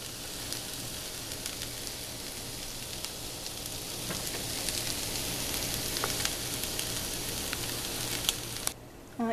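Shark fish puttu roasting in a pan gives a steady, soft sizzle and crackle that runs continuously, close but fairly quiet, ending in a brief clatter.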